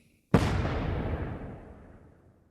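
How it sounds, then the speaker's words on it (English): A fireball explosion bursts in suddenly and loud, a deep roaring blast that rumbles on and fades slowly over two seconds, set in a fantasy wargame battle as fire strikes massed enemy archers. "he hurls a second fireball at the disordered Crimson arrows"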